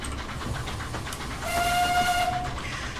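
A steam locomotive in a train simulator rumbles along a route with a quiet rolling clatter, then sounds a sustained whistle for about a second before the running noise resumes.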